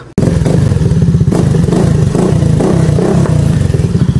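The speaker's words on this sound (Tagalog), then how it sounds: "full system exhaust muffler para sa Suzuki Bergman Street V1 and V2" Suzuki Burgman Street V1/V2 scooter fitted with a plug-and-play full system exhaust muffler, its engine loud and close, throbbing in a steady pulsing idle with slight revving for several seconds.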